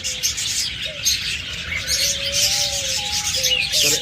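A pair of Fischer's lovebirds in a bird-selling setting give rapid, shrill chirps and short squeaky whistles close by, continuous through the moment, with no talk.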